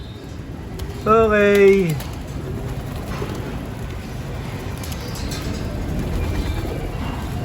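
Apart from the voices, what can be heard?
pigeons cooing at loft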